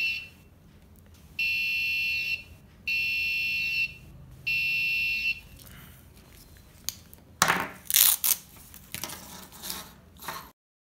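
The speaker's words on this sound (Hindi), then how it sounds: "ये सेंसर उसको सेंस करके और बजर इंडिकेशन दे देगा ताकि वो अलर्ट हो जाए।" A wearable obstacle sensor built to warn a blind wearer sounds its buzzer in three sustained, evenly spaced bursts. After them come scattered clattering and handling noises.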